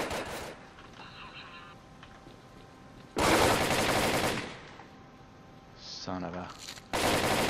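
Automatic gunfire in the S.T.A.L.K.E.R. Call of Chernobyl Dr. Mummy Fingers mod, with loud bursts opening, dominating the middle stretch and returning at the end, interspersed with quieter gameplay sounds and a man briefly cursing.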